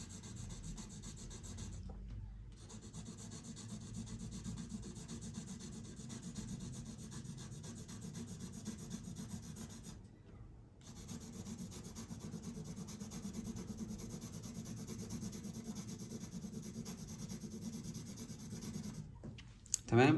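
Pencil shading on paper, a steady raspy rubbing of graphite strokes pressed and layered over and over, continuous and close with two short pauses between passes, no talk.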